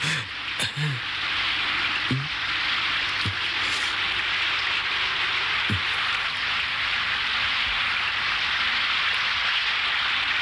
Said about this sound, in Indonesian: hujannya agak deras